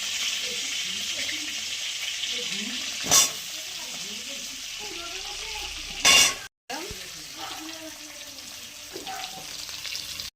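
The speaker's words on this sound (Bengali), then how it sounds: "চিংড়ি মাছগুলো দিয়ে দেবো। তুলে নিচ্ছি, করে রেখেছিলাম আলুগুলো দিয়ে দিলাম।" Shrimp and potatoes frying in hot oil make a steady close sizzle, broken by a couple of louder bursts of spatter or stirring and a brief cut to silence.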